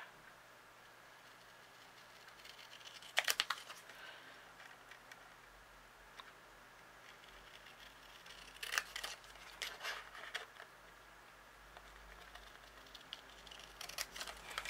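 Scissors cut card in a quiet room, a few short crisp snipping bursts spaced apart, close and faint against a low background hum.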